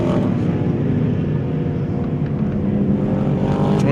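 A Ford Mustang and a Chevrolet SS race car duel on a circuit at a 2025 Passion for Speed race meeting, loud sustained engine roar close by with a rising whine near the end, no clear talk.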